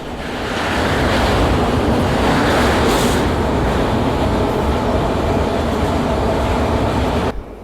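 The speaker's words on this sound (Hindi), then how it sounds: "और अब हम क्रॉस करने वाले हैं भारत के सबसे लंबे रेल कम रोड ब्रिज को, यानी कि बोगीबिल ब्रिज को।" The Rajdhani Express rolls across the five-kilometre Bogibeel rail-road bridge, a loud, steady rumble with heavy wind buffeting throughout, constant from start to end with no voices.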